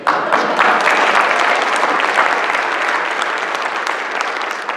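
An audience applauds its hosts with loud, full clapping that starts abruptly and holds steady before easing off slightly toward the end, with no voices over it.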